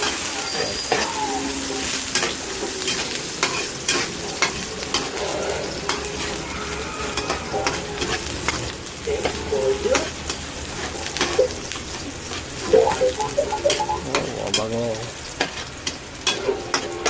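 Pancit noodles sizzle loudly in a pan while being stirred, with frequent clanks and scrapes of a utensil against the metal and occasional faint voices beneath.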